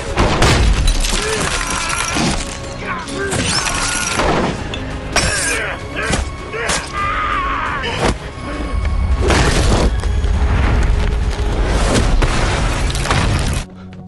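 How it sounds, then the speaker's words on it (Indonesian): A grenade explosion tears through a plastic surgery clinic, a dense stretch of booming blasts, shattering and crashing debris with heavy low rumble, loud and sustained throughout, with dramatic score and effects layered in. "akhirnya melemparkan sebuah granat yang meledakkan seluruh klinik bedah plastik milik Tarmidi."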